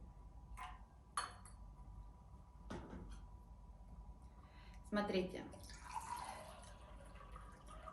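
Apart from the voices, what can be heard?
pouring water into a small gaiwan teacup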